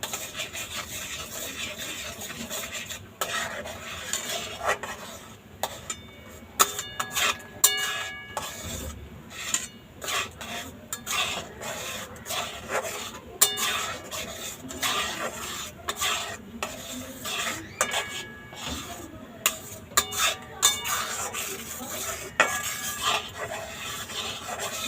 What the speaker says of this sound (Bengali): এবার দুধ আর ছানাটা একসঙ্গে, এটা এবার কন্টিনিউ নাড়তে হবে, নাহলে তলায় লেগে যাবে।